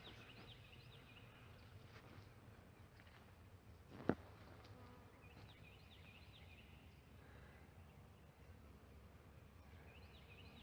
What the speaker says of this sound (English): there are honeybees everywhere